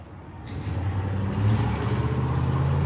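A red truck drives past with a loud, low engine drone that grows heavier midway and holds steady, a close rumbling road-vehicle sound.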